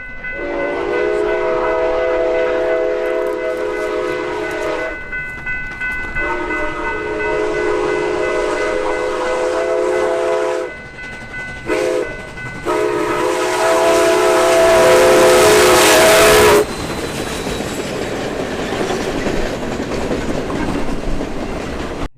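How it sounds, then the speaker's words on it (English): CP 2816 steam locomotive passing near a crossing, sounding a loud, sustained multi-tone whistle in several long blasts with short breaks, followed by a rising roar of steam hiss and rolling train noise. "we ended up chasing this thing to a different crossing,"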